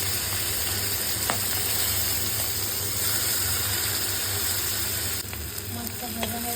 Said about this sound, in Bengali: এই যে রেখেছি মাছটাকে সামান্য একটু নুন হলুদ মাখিয়ে এটাকে হালকা একটু ফ্রাই করে নেব